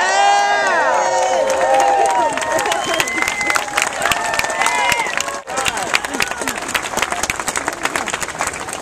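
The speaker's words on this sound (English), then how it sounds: "Let's give him a round of applause." A rally crowd at a Jobs Not Cuts event applauds and cheers for a firefighter. The clapping is loud and sustained, with whoops and shouted cheers rising over it, a brief dip midway, then more steady applause.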